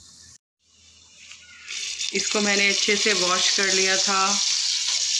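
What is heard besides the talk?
mutton added to browned onions, sizzling in pan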